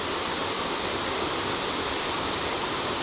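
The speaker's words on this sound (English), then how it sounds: "it's kind of crazy to see waterfalls like this over here" A waterfall at Mayo River State Park in central North Carolina roars as a dense, steady broadband rush, close and continuous with no voices.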